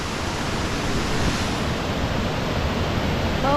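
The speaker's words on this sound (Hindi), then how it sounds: "ओह, ये रहा, यही तो आवाज़ आ रही थी, झरना।" A small waterfall on the river in Dean Village, Edinburgh, gives off a steady, broad rush of falling water, loud and close, unchanging throughout with no voices.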